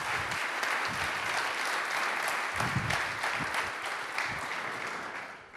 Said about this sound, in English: a round of applause for the DaFED team